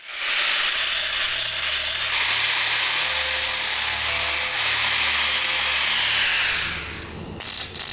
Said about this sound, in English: The next day I clean the surfaces of both bars.